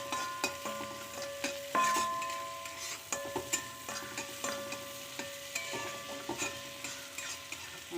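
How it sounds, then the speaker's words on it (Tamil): Onions and curry leaves sautéing in a pan, a soft continuous sizzle broken by frequent scraping stirs and light spoon taps against the metal, close by with no talking. "அதனால் வெங்காயமும் கருவேப்பிலையெல்லாம் போட்டு அதை ஒரு வணக்கி விட்டுறலாம்."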